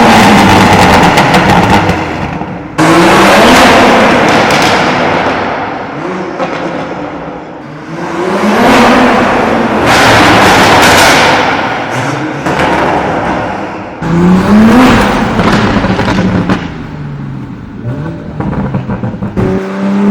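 The exhaust of a 700+ hp single-turbo MKV Supra roars and revs hard beneath a parking garage, loud and echoing, with repeated surging pulls, sharp pops and rumbling lulls between bursts.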